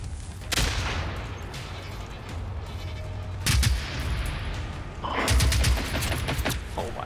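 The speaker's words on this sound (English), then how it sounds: "Yeah, they're definitely shooting at me." Enemy gunfire in the video game Generation Zero, rattling automatic bursts in three loud waves over a constant noisy background.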